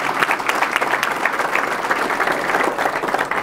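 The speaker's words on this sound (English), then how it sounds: "Round of applause, please, for them." Loud, continuous applause from a dinner crowd at a university baseball first-pitch banquet, dense and even clapping that carries steadily through the whole stretch.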